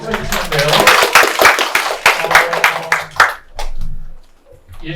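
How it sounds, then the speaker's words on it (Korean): An audience at a university admissions briefing on mathematics claps in a loud burst that thins out and fades, and people talk over the clapping and afterward. "박수 쳐주시면 돼요"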